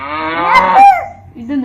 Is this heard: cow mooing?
yes